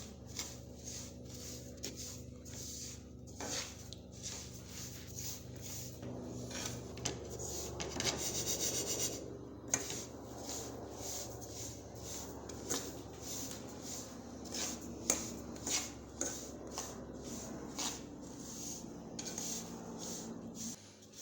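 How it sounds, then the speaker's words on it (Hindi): Sesame seeds dry-roasting in a pan over low heat give a quiet, repeated scraping and rattling as a spatula stirs them, with soft metallic knocks over about twenty seconds. "सबसे पहले हम पैन में तिल को हल्का सा फ्राई करेंगे, बिल्कुल हल्की आंच पे इसको रोस्ट कर दें।"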